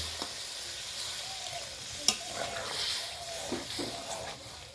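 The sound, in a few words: vegetable gravy with water starting to boil in pan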